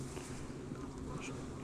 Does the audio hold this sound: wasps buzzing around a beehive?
yes